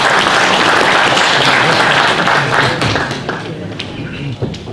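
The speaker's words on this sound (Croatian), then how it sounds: "Jedan aplauz za njega" An audience at a Pale cultural-society anniversary event applauds loudly and steadily, the dense clapping thinning out slightly toward the end.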